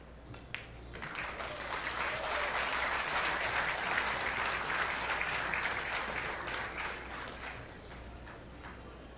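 Applause rises from a nearby table at a pool tournament in Las Vegas, a steady crowd clapping that swells quickly, holds for several seconds and fades, over a low background hum.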